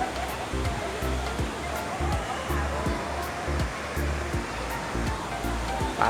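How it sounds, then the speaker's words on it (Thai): Artificial sea waves at Andamanda water park in Phuket make a loud, steady rushing roar of churning water, with a low voice faintly under it. "นี่เป็นทะเลนะเพื่อนนะ"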